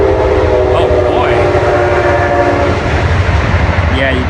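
A train passes close by, hidden behind thick trees and bushes, sounding a loud, sustained horn over a heavy rumble and the clatter of the wheels.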